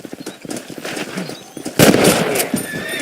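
Gunfire in the Red Dead Redemption video game, a loud burst near the end over busy game sounds with horse hooves and whinnies, close and sharp.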